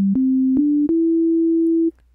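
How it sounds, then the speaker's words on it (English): A pure, steady sine wave tone from the Surge synthesizer holds for about two seconds, stepping up slightly in pitch a few times, then cuts off. "And by default, we'll get a sine wave."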